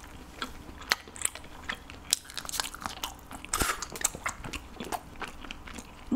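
Biting and chewing a strawberry chocolate donut, with close crisp crunches and wet mouth sounds repeating irregularly, fairly soft and with no talking.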